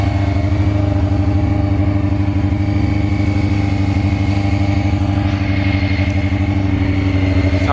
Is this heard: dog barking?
no